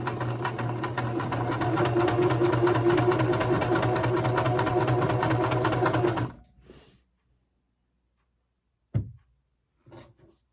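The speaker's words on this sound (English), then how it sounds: "I'm just going to get these sewed." A sewing machine stitches quilt pieces for a wonky log cabin quilt in one loud, steady whirring run of about six seconds, then stops, followed by quiet clicks and a short knock.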